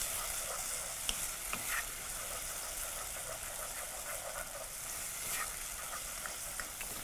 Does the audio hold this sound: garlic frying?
yes